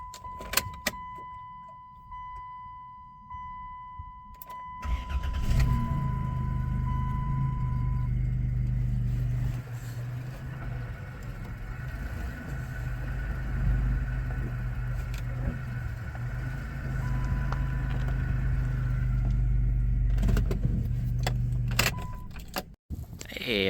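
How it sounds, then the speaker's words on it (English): A 1994 Chrysler Town & Country AWD minivan on a test drive, its steady low engine and road hum filling the cabin after a quiet start, with a few clicks and rattles throughout. "I'll take it for a test drive here."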